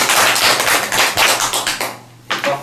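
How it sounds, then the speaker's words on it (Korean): Clapping from an audience at the close of a Korean lecture, a dense burst of many hands that thins out and pauses briefly before a few claps resume near the end. "우리 박수 치고 마치겠습니다."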